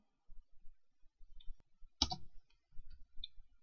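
A computer mouse double-clicks once in the middle of a quiet room, giving a sharp, close pair of clicks with faint soft taps and handling noise before and after.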